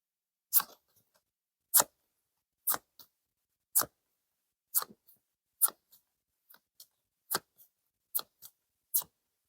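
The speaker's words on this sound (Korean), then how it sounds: "마지막으로 카드를 뽑아보고 말씀을 드려볼게요" Tarot cards drawn from a deck one at a time, giving about a dozen crisp, close snapping flicks at a steady pace in otherwise quiet surroundings.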